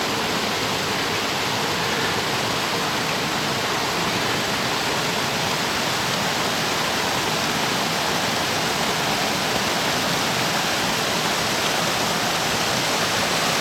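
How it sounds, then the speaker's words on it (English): Steady broadband rush of a small double waterfall on the Tuolumne River in Yosemite near a natural rock bridge, constant and loud, with no people talking. "I can go over to that little waterfall"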